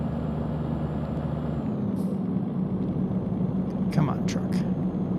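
A truck's air brake hisses in the Euro Truck Simulator 2 driving game, short sharp bursts near the end over a steady, loud engine drone and rumble, with no talking.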